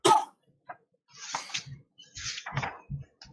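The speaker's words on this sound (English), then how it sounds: "Can I just apologize for my coughing, by the way?" A person coughs a few times, short and fairly close, with brief quiet pauses between the bursts.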